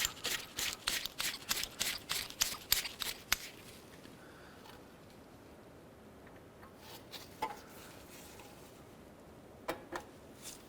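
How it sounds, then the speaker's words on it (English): A socket wrench torquing down an O2 sensor on a 2011-2016 Hyundai Elantra exhaust, rapid ratcheting clicks in close bursts for the first few seconds, then a quiet stretch with a few scattered clicks and knocks. "now we're gonna torque down our O2 sensor. Get on there with that socket"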